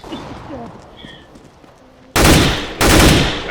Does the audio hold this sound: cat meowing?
no